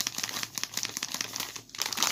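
Plastic bag crinkled and rustled by hand in a kitchen while berries are prepared, a steady run of close, crisp crackles with no talk.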